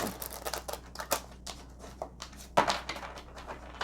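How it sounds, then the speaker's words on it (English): Quick papery riffling and flicking of cards, a run of crisp close ticks and snaps with a sharper burst partway through, no voices. "Let's do one more shuffle."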